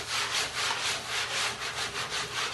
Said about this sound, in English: I'm scrubbing off all the grease before I start painting.